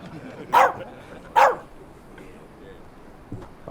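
A dog barks twice in quick succession, loud and close, in a crowded room, then a faint yip follows near the end.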